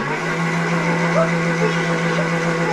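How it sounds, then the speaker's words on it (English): Electric mixer grinder whirs steadily as it blends a banana shake in its jar, a loud close motor drone holding an even pitch throughout, with a person talking over it. "So I am again putting my jar in this grinder."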